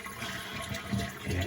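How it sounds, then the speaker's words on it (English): A toilet flushing during a connector and flapper replacement, a loud rushing swirl of water draining and refilling the bowl, close to the microphone and continuous throughout. "Okay, so we're flushing the toilet."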